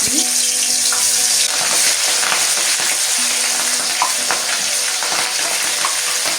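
Hilsa fish fries in hot oil in a pan, giving a loud, continuous crackling sizzle close up, broken by stirring scrapes and small pops, with no one speaking.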